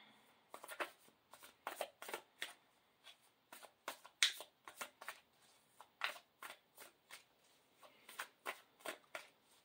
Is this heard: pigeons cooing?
no